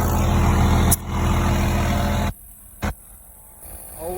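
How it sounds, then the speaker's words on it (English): An air compressor fills a flat tire on a Cummins-powered truck with a loud, steady rushing roar that stops abruptly partway through, leaving a quieter background with a brief tonal blip. "Airing up one of the tires"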